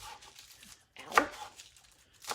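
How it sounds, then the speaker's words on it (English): A knife roughly chops spinach on a board in a few quick, close strikes separated by brief pauses, with a sharper cut near the end. "Just roughly chopping the spinach so we don't have big, long, stringy pieces"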